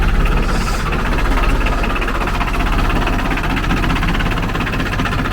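A Ford 1520 compact tractor, a 23-horsepower loader backhoe, idles steadily nearby with a continuous low mechanical rumble and vibration, with no voices over it.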